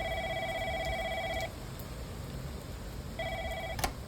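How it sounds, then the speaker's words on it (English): A telephone on a bedside table rings in two bursts of an electronic trill separated by a pause, faint against quiet background rain. "A phone rings on his bedside table."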